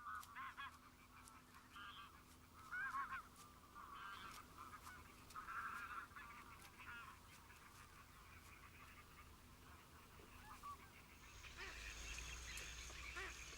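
Bean geese calling in the Doñana marshes of southern Spain; repeated honking calls come in uneven bursts from some distance, fairly faint over a low steady background, with a broader noisy wash near the end.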